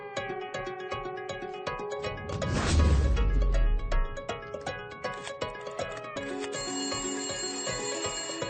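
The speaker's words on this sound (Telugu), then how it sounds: "ఇంకో నంబర్ నుంచి మనం ట్యాప్ చేస్తున్న నంబర్ కి కాల్ వస్తుంది సార్" A phone rings with an incoming call in a Telugu film scene, its bright repeated electronic ringtone running steadily over background music, with a heavy crash-like hit partway through.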